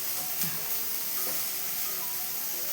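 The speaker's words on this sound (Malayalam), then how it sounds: "അപ്പോൾ വെണ്ടക്ക മെഴുക്ക് വരട്ടി അടുപ്പത്ത് വെച്ചിട്ടുണ്ട്" Okra stir-fry (vendakka mezhukkupuratti) sizzles steadily in a pan on a stovetop, a soft continuous crackle and hiss with occasional stirring scrapes, close and alone with no talking.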